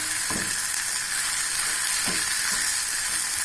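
Taro root pieces fry crisp in a hot pan with a loud, steady sizzle, interrupted by a few soft scraping stirs.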